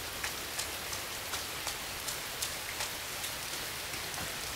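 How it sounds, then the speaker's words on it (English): Steady rain pours down in the side-scrolling game Inside, a dense hiss of falling water with faint regular drip ticks on top, heard alone without any voices. "It's really rainy."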